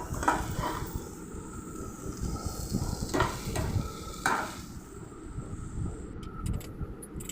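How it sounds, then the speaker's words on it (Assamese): Ginger-garlic paste frying in a pan with turmeric and cumin powder, a continuous close sizzle and crackle with occasional soft stirring scrapes and no talking. "মই এইখিনি অলপ সময় ভাজি ৰাখিম"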